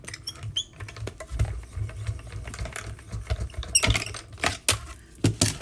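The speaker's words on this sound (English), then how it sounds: "let me get my baby boss, the mini Stampin' Cut and Emboss machine. And we're just going to die cut this out." A mini Stampin' Cut and Emboss machine cranks paper through to die cut it, giving a close, continuous rattling and clicking with a few sharper knocks.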